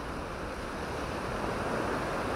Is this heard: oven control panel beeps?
no